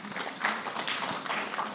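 An awards ceremony audience claps in a brief, steady burst of applause at moderate volume.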